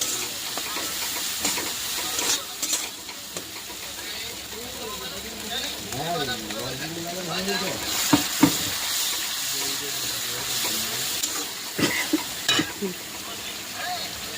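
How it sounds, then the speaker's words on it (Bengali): Spiced masala being sautéed with coconut milk in a pan, a steady sizzle and frying hiss with occasional stirring scrapes, close and continuous while a voice talks over it. "ওই নারকেলের দুধটাই একটু দিয়ে মশলাটা কষিয়ে নেব যাতে মশলাটা পুড়ে না লাগে"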